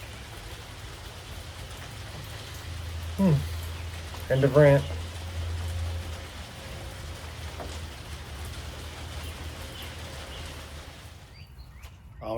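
Steady rain falls on a chicken coop near a woodyard, a constant wash of patter throughout, with brief talk breaking in partway and the rain continuing alone afterward.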